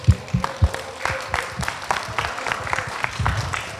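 An audience at a disaster-education seminar claps in an uneven, thinning burst, individual hand claps standing out with a few low thumps, no talk over it.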